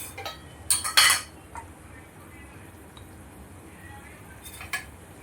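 A spoon stirs a lime, ginger and mango pickle mixture in a pan, a few quick metallic clinks and scrapes near the start, then quiet with one more faint clink near the end.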